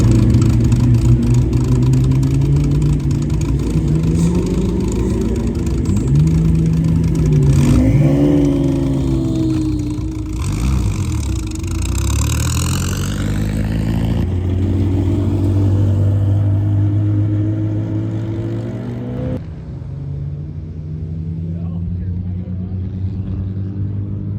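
A race car engine on a racing school track roars loud and close, its pitch climbing and dropping repeatedly through gear changes before it fades off into the distance.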